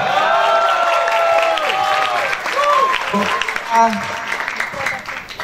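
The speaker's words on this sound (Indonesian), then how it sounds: "mana pendukungnya tim kontra? Tepuk tangannya dong." Debate audience supporters clap and cheer for their team, a crowd applauding under overlapping voices and chatter throughout.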